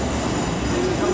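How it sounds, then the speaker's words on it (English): A train at a Birmingham railway station gives a steady, loud rumble with a faint high wheel squeal rising near the end. "Running to get the train."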